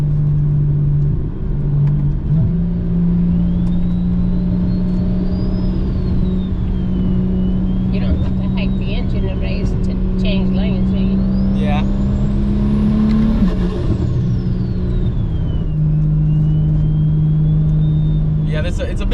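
A BMW N54 335i with a single big turbo making around 600 hp accelerates from inside the cabin, a loud steady engine drone rising in pitch with a turbo whistle climbing and falling, while people talk over it.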